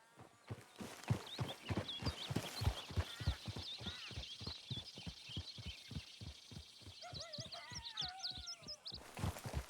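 Steady galloping horse hooves beating in a quick, even rhythm throughout while riding in Red Dead Redemption 2, with faint whistling calls layered above near the end.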